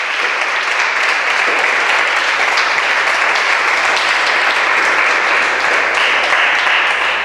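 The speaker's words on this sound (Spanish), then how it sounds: "Dele otro aplauso al Señor" Church congregation applauding during a Spanish-language service, a steady dense wash of many hands clapping that holds evenly loud for the whole stretch, with no voice heard above it.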